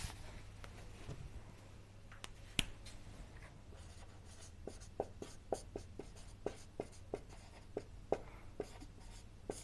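Quiet pen-on-paper scratches and light taps as notes are written during a physics lesson, a series of soft irregular strokes up close in a still room.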